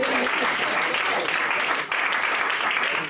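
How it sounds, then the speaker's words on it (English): Church congregation clapping together during Sunday worship, a dense, steady wash of hand claps filling the room without a break for about three seconds, loud and close. "Come on, somebody clap your hands."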